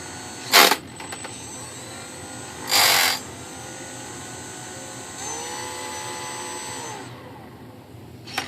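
A retractable electric motor system on an Arcus M RC glider runs up on throttle with a close, loud whir. Two short bursts are followed by a steadier mid-level whine that fades as the throttle is cut.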